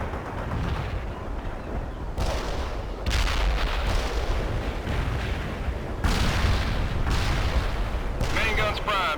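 Tank main guns firing HEAT shells in the World in Conflict video game, a string of heavy booming blasts through the clip with loud rumbling impacts and a dense battle din, game voices speaking over it.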